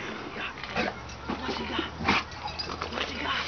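A dog whimpers and yips in short, high, uneven bursts at close range, mixed with a few soft human voices in the background.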